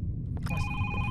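A phone ringtone carries through the walls of a house, a muffled electronic ring that starts after a faint knock-like thud and holds a steady tone to the end.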